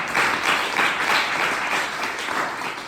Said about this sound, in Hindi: जोरदार ताली, बढ़िया।